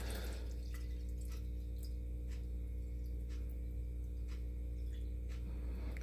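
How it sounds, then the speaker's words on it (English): Water trickles and drips into a Star Trek snow globe, scattered faint droplets sounding one after another over a steady low electrical hum. "put some water in."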